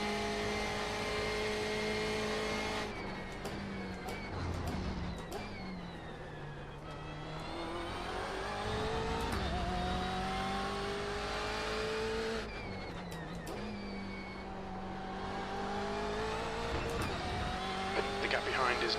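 A BMW M8 GTE race car in the iRacing sim at Road Atlanta roars steadily through the whole stretch, its engine pitch climbing and dropping through gear changes and braking, with a few sharp clicks scattered through it.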